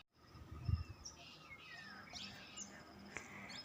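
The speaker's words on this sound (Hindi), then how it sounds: "चिड़िया चहचहा रही है। चिड़िया की चहचहाने की आवाज़ कितनी प्यारी लगती है।" Small birds chirp outdoors on a sunny hillside path, with faint scattered tweets and thin calls over a quiet background and a soft thump near the start.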